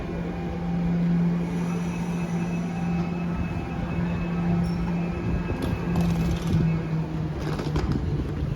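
A modern train in Vienna rolling along with a steady low rumble and rail hum, faint squeals and rattles rising now and then over continuous interior noise.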